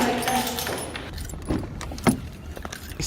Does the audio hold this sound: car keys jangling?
yes